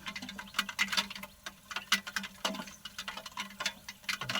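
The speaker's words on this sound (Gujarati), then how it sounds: "ટમટમ વરસાદ આજે રાતના 3 વાગ્યાનો ચાલુ છે, હજી ચાલુ જ છે ધીમે ધીમે" Light, slow rain patters in a wooded outdoor spot, irregular soft taps and drips close by at a quiet level with no voices.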